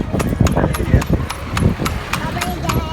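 Horse hooves clip-clop in a steady trotting rhythm during a ride, loud and close, with people talking over the hoofbeats.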